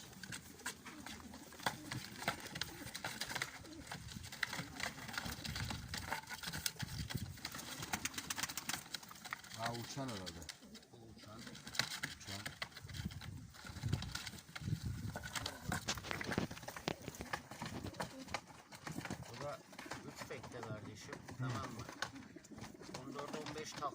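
Ağcakanat pigeons coo and rustle through a dense, steady background clamor, and people talk faintly at times.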